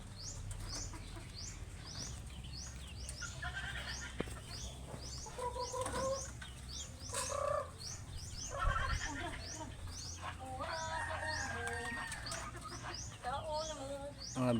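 Chickens cluck and squawk in short bursts over a constant outdoor hum, with occasional faint voices in the background.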